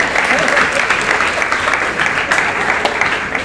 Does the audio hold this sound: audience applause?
yes